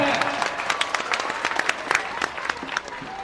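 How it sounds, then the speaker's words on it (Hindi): An audience at a teachers' event in India claps steadily, a dense patter of many hands at moderate distance, continuing throughout with a few sharper claps standing out. "आप लोग एक बार जोरदार ताली से इनका स्वागत करें"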